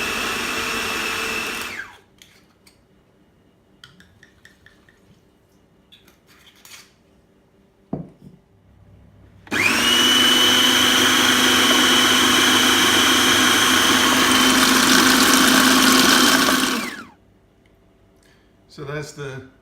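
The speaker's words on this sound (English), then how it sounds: "All we need to do is just loosen it up a bit in the blender and add a little wine just to make it a bit smoother." A blender whirs loudly and steadily for several seconds, smoothing venison liver pâté loosened with a little wine, with clinking kitchen sounds and brief bursts before and after the run.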